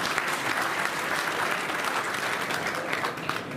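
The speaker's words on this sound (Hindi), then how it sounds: "एक बार जोरदार तालियों से अभिनंदन करें।" Loud, sustained applause from a large crowd, a thick even wash of clapping that holds steady throughout.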